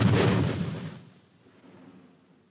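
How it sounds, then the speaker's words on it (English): Anti-personnel mine blast in a war battle scene: a single loud, broad explosive burst that rolls off over about a second, leaving a faint low rumble trailing behind. "That explosion was one of our mines."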